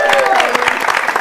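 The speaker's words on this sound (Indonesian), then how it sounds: "Tepuk tangan untuk Agnes dan Wiwi." A studio audience on a TV quiz show claps in a short, loud burst, close and dense, while a voice speaks over the applause.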